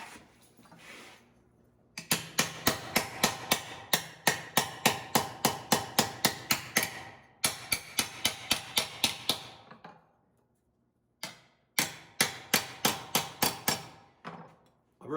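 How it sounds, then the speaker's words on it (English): A hammer strikes the flanged edge of a sheet metal panel in rapid, evenly paced bursts of sharp metallic blows, separated by brief pauses. "I might be able to run a hammer right on this edge and pull it up just a little bit"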